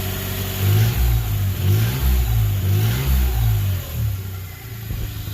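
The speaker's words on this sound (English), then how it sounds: "I got the engine back together. Sounds pretty good." A rebuilt 1991 Geo Metro engine runs close by, its note swelling and falling through several rhythmic revs with a steady low throb underneath, and no voices.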